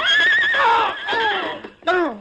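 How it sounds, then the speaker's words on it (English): A horse neighs loudly as it stumbles and falls on a forest trail, a shrill wavering whinny followed by a shorter second cry, close and prominent. "his horse stumbled and fell"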